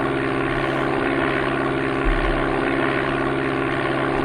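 Propeller airplane climbing after takeoff in the Amiga game Flight Simulator II, a loud, steady synthetic engine drone with a constant buzzing tone throughout.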